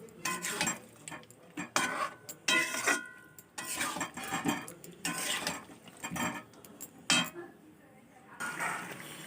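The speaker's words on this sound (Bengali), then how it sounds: "মাংস এবং আলুগুলো দিয়ে দেব এবার ভালো করে মশলার সঙ্গে কষাতে হবে" Chicken curry with potatoes: meat and potato pieces are stirred and fried with spices in a pan, giving repeated scraping and clinking strokes of a utensil against the pan, close and moderately loud, in uneven bursts throughout.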